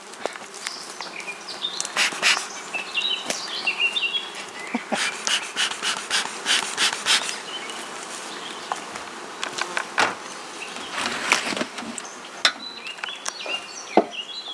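Honey bees buzz around beehives in an apiary, irregular bursts of buzzing swelling and fading close by, with scattered clicks and knocks of hive work in between.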